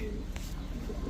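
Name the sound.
Mundian pigeons cooing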